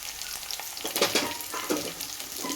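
Green chillies and cashews sizzle and fry in a hot pan while being stirred, with soft scraping strokes over a steady, fairly quiet crackle.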